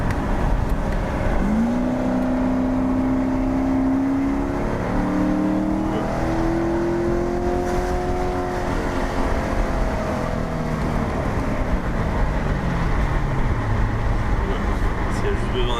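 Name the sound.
Corvette Stingray C7 engine revving after paddle downshift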